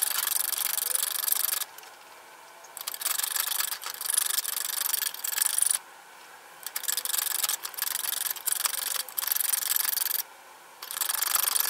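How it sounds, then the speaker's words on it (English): A hand file rasps steadily across a brass nut for a Yamaha FG75 acoustic guitar, heard as close, bright scraping strokes in long runs broken by short pauses. "at this point I'm just using a file and just filing it down to shape"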